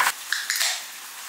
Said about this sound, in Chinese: 煎鱼下锅。